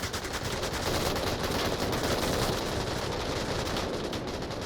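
Dense gunfire from the VR shooter Onward during a competitive match, bullets punching through wooden cover; continuous rapid automatic bursts with rattling, crackling impacts, steady and fairly distant, no pauses.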